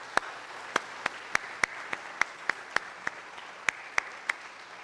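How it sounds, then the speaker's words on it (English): A church congregation at a Sunday Mass claps for children receiving their first Holy Communion, heard as sharp, evenly spaced single claps in a slow, steady rhythm over a quiet room. "Let's give them another round of applause."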